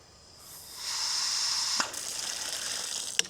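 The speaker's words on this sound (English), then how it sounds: "the water spigot is just here, so really easy to use" Water from a campground spigot at Colter Bay Campground in Grand Teton National Park, gushing in a steady, fairly loud hiss after a short quiet start, with a couple of sharp clicks and no talking.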